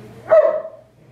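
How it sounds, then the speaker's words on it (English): A single dog bark rings out close by, short and sharp, fading quickly into quiet. "You can hear my dogs."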